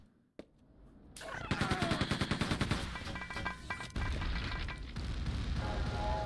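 Rapid gunfire from shooting enemies in Quake II, loud rhythmic bursts of shots in a fast series with heavy impacts and a booming blast partway through, no talk.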